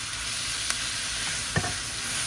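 Food fries in oil and butter in a pan, a loud continuous sizzle with a couple of brief utensil scrapes as it gets stirred. Nobody speaks.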